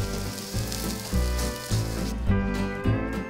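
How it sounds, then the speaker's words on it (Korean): A Korean water parsley pancake fries in an oiled pan with a loud, steady sizzle, close up and without speech. Soft repeated bumps of pressing or moving the batter come through. "반죽된 가루를 입혀서 부침개로 지져 먹으면 굿"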